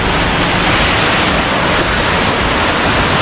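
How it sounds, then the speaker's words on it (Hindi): Rain-fed natural waterfalls pour down a mountainside in heavy rain, a loud, steady, broadband rush of falling water that fills the whole stretch without a break. "ये अपने नेचुरल झरने बन गए हैं यहाँ पे, बारिश बहुत ज़्यादा हो रही है तो बेसिकली ये नेचुरल झरने बन के गिर रहे हैं"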